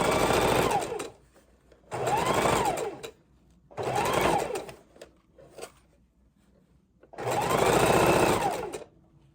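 A sewing machine runs in four bursts, each a loud whirring drone lasting about a second and a half to two seconds with quiet pauses between, as trim is sewn onto a junk journal cover.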